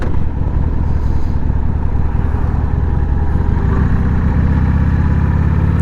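Harley-Davidson Sportster 883 motorcycle on a test ride, its engine rumbling steadily and loudly throughout with a continuous low, throbbing drone and no talk.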